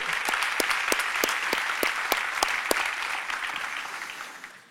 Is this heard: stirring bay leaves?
no